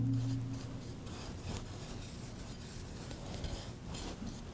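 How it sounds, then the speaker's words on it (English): A sanded stencilled surface finished in La Chaux is brushed and wiped clean, giving a steady close rubbing and scratchy brushing texture with no talk. "Okay, now I'm just going to dust it off."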